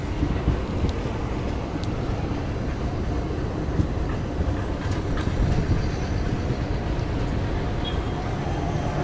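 Devgiri Express on the Mumbai–Hyderabad route arriving at Kamareddy station with its last ICF coaches, heard as a continuous close rumble of wheels and carriages with faint clatter and wind buffeting throughout.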